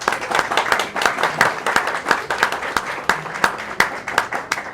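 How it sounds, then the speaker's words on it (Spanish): An audience welcomes a speaker at a literary book presentation with steady, continuous applause, many hands clapping briskly in a hall for several seconds. "Bienvenido, un aplauso por favor."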